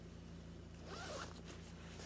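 A side zipper on blue men's tracksuit-style pants with an inner lining is drawn open in one short, quiet zip over a faint steady background hum.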